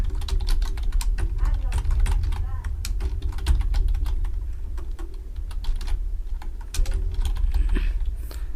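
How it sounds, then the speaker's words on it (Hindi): Rapid clicking of a computer keyboard while entering names and marks into spreadsheet cells during a practical computer class, steady and close throughout with someone talking over it. "देखो यहाँ पे टाइप कर दिया"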